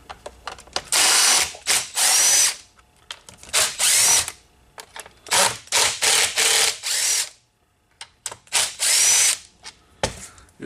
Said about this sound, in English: I like to use this little DeWalt driver.